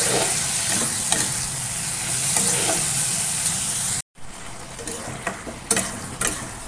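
Eggplant frying and being stirred in a pan with chili powder, turmeric, salt and prawns, a steady close sizzle with scraping stir strokes, briefly cut off near the middle before resuming.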